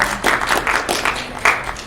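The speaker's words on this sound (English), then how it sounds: "I just want to give another round of applause for the folks who organized this." A small audience at a fireside gathering applauds the organizers, a brief, moderately loud patter of clapping hands in a room, with slight murmuring underneath.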